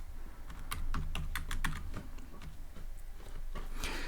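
Quick bursts of close keystrokes on a computer keyboard as a line of Python code is typed, the clicks bunching into rapid runs with short pauses between.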